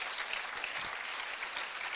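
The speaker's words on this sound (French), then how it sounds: "On va l'applaudir" An audience at a 2015 trophy award ceremony applauds, giving a dense, even clapping that stays loud and steady for the full two seconds.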